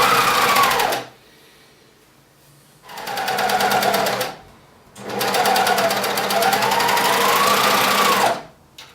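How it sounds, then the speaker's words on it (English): A serger overlocks the raw edge of trouser fabric in three loud, steady, humming runs close by. Short silent pauses separate the runs, and the pitch of the motor shifts slightly within each one. "I'm going to serge along this edge and serge around that edge"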